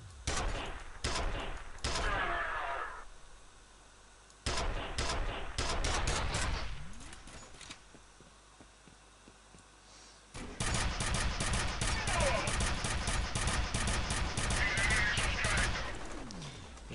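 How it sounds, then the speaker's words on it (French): Gunfire in the shooter game F.E.A.R., rapid automatic bursts and single loud shots in two heavy volleys split by a quieter lull, close and dominant throughout. "je fais vraiment un gros bourrin qui tire toutes ses munitions comme un fou furieux"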